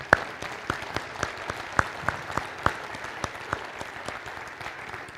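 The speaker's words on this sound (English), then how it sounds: "Let's give them a round of applause" An audience claps for cadets after their display at a city address event, a steady round of applause with sharp individual claps standing out, moderately close and sustained throughout.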